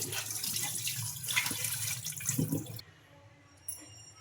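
Flattened rice (poha) being washed in water in a kitchen, with close sloshing and splashing for nearly three seconds, then quiet apart from a small clink.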